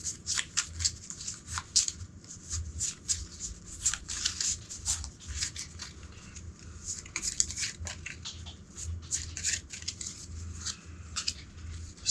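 Playing cards shuffled over and over for a solo board game, giving a steady patter of crisp riffling bursts close by with no talk.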